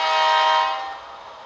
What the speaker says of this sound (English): Just going to give this logo a bit more throttle,